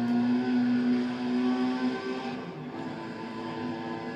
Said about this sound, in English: when you drive through a tunnel, you can literally hear the car revving up